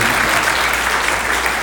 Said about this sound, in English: Y'all gotta give yourself a round of applause.